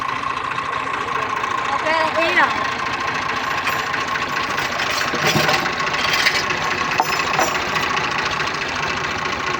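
A tractor engine idles steadily in a Punjab village, a low continuous mechanical rumble with some knocking texture running throughout, with faint bits of background voices and a brief rattling clink midway.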